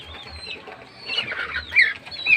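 A large rooster clucking in a few short, nasal calls that grow louder toward the end, with no talking.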